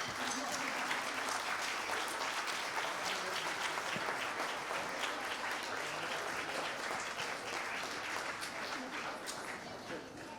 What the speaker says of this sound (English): would you give all the award recipients a round of applause?